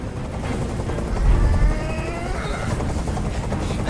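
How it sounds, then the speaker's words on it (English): A helicopter in the video game Detroit: Become Human, a loud continuous rotor thump and engine drone hovering close by, swelling briefly before settling into a steady roar with a faint voice beneath it. "I can't stand that noise anymore! Tell that helicopter to get out of here!"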